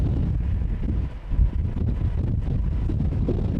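Steady wind at Amsterdam Schiphol Airport during departures from runway 36L, a constant low roar and rumble buffeting the microphone, with no talk.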